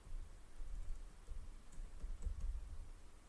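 Quiet, close keyboard typing as an nmap network scan command is entered, a soft, uneven patter of key clicks over a low background rumble, with no voices.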